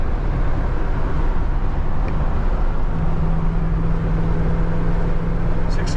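A 1966 Pontiac Lemans cruising down the road, its engine droning steadily under continuous tire and road rumble, with no talking throughout.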